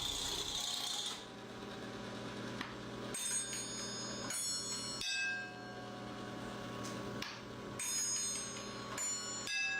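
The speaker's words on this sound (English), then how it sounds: "when someone rings the doorbell, it makes a couple of different sounds for the front or the back door." Handmade doorbell sculpture chiming distinct tones for front and back doors: several bright, ringing bell strikes with lingering metallic decay, spaced a second or two apart, clear and close with no voices.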